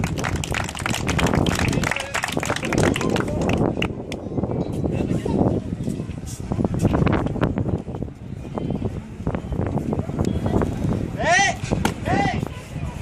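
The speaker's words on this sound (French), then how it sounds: "Sous vos applaudissements, mesdames et messieurs" Crowd applause at an outdoor sports demonstration event, dense clapping and cheering throughout, mixed with a voice over a public address and a few whistles near the end.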